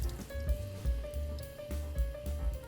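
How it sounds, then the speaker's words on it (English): Water drains off two cups of washed rice, a soft close patter and trickle with light uneven splashes and a faint steady tone in the background. "Okay, and then drain the extra water."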